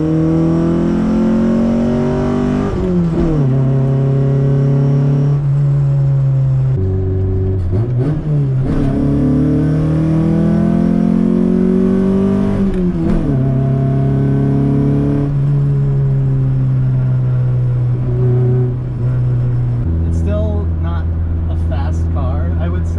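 An engine-swapped Honda Civic drives on back roads, its engine droning loud and close with rising and falling pitch as it shifts through gears and rolls on and off throttle, while people talk over it.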